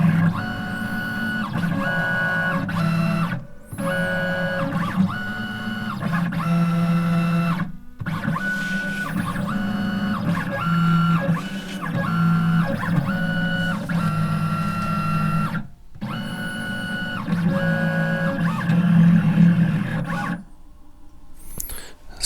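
Vinyl cutting machine slicing a vinyl sheet for wrapping an RC car, close mechanical whirring and motor tones moving in stepped runs, broken by brief pauses as the carriage changes direction.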